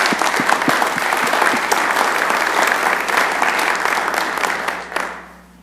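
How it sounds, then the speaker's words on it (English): Applause from an audience at a council meeting, a dense steady patter of many hands clapping close by for about five seconds before fading out quickly at the end. "let's give all of them a big round of applause."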